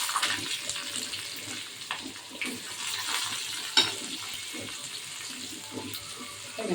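Onions dropped into hot oil with popped mustard seeds in a pan for sambar karuvadu thokku, giving a steady hissing sizzle with crackling bursts throughout, no talking.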